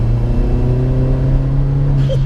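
Hybrid-turbo Seat Leon Cupra R pulling hard on boost in fourth gear, a steady loud engine drone with rising harmonics held close throughout, faint whistle near the end.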